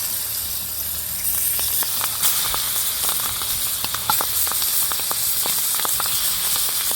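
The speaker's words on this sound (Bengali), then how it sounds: "মাছটা দিয়ে নিলাম ফ্রাই প্যানে। এখন আমি সুন্দর করে এপিট ওপিট করে মাছ ভেজে নেব।" Spice-coated pangas fish pieces frying in hot oil in a frying pan give a steady close sizzle with frequent sharp pops and spatters.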